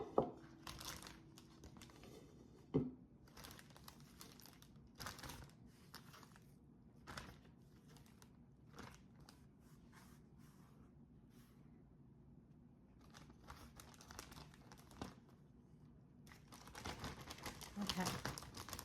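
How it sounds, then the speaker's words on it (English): A plastic freezer bag crinkles as half an onion goes into it in a home kitchen, with soft rustling bursts near the start and end and talk in between. "And the other half of this onion, I'm going to throw into a freezer bag."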